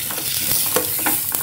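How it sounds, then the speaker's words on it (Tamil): Masala for a coriander kuzhambu fries in oil and is stirred, a close, loud sizzle broken by repeated scraping strokes of the spoon. "இப்போ லைட்டாக இதை நல்லா எண்ணெயில் கிண்டி விட்டுக்கலாம்"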